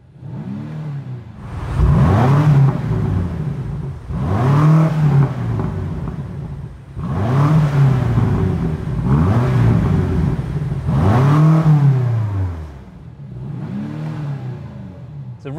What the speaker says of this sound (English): It's a nice powerful exhaust note.